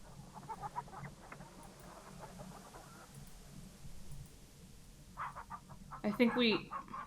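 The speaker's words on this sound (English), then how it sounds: "The chicken dodges your grasp." Chicken clucks from the King's Quest III remake computer game come in short soft bursts over quiet background music, with a louder squawk near the end.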